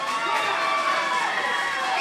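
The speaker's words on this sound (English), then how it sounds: "And the crowd loves it." A pro wrestling crowd cheers and roars in a steady, sustained wash of noise throughout, fairly loud, with indistinct voices mixed in.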